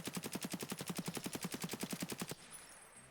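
A low-recoil rifle build fired in short rapid bursts from a crouching position in Escape from Tarkov, an even rhythm of about twenty quick shots that cuts off sharply and leaves a faint ringing tail.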